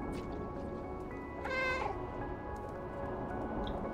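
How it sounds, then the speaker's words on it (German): A cat meows in the video game Stray: one drawn-out, fairly loud call near the middle, standing out over a steady background of game ambience and music, with no speech. "ich find's nice, dass ich einfach miauen kann"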